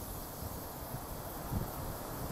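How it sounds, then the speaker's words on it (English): Steady outdoor wind, a broad breathy rush with faint rustling and low rumbles of gusts on the microphone, fairly quiet and with no talking. "Can you hear that wind?"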